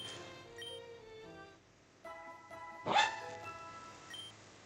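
A pet dog lets out a short bark, with one sharp, loud burst near the middle, over steady video-game music.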